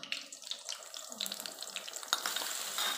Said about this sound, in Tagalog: hintayin mo lang na ma-brown yung bawang